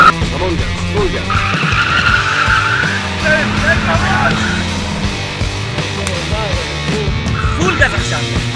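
Race car at full throttle on a track, engine roaring continuously with repeated tire squeals and skidding, while an excited driver talks and exclaims over the noise.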